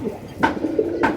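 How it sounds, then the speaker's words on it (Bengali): A pair of Bantinet pigeons at a pigeon farm coo close by in two short, soft bursts about half a second apart. "দর্শক দেখতে পাচ্ছেন এক জোড়া বন্টিনেট কবুতর"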